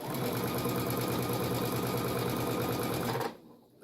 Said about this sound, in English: so I'm just going to sew over to here